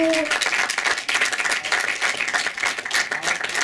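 Audience applause fills the room at a live German stage show, a dense, steady wash of many hands clapping throughout, loud and close, with a brief voice at the very start.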